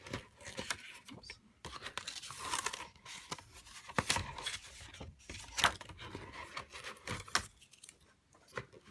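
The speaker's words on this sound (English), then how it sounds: "So you should be able to peel the outer layer away." Cut cardstock layer peeled by hand off a Cricut Explore cutting mat, a close, quiet series of sticky crackles and tearing rasps in uneven bursts with brief pauses.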